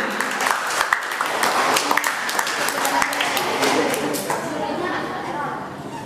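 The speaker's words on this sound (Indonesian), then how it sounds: "beri tepuk tangan untuk reguler" At an elementary school quiz competition held at a Buddhist vihara, the audience applauds the regular team, a full, sustained round of clapping that stays steady and fairly loud throughout.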